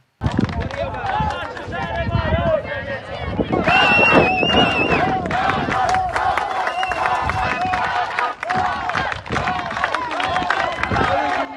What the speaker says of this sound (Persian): ولی این بار بوکانیا با تشویقاشون ما رو سورپرایز کردن